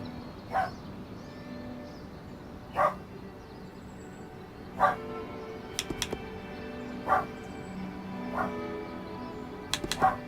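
Dogs bark in a video game, Eternal Strands: single yaps spaced every two seconds or so over a steady ambient bed, mid-distance and fairly faint, with a few small clicks near the end.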